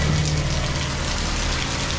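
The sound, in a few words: typhoon rain falling outside the house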